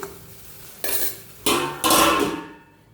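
A spoon scrapes and clatters around a metal pot in three bursts, with a soft sizzle underneath fading out at the end.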